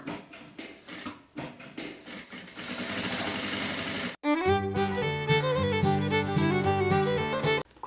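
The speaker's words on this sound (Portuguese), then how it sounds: "Na curvinha você levanta o calcador com a agulha baixada e vai fazendo pontinho por" Sewing machine stitching fabric while making an ecopad: a fast rattling hum of needle strokes, followed by a sudden cut and then music starting.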